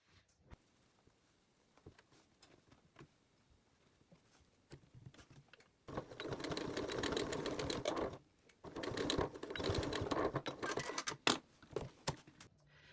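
A sewing machine runs in two bursts of rapid stitching, sewing fabric close to a bow on a napkin ring, with quiet handling and faint clicks before the motor starts; close and moderately loud, no speech.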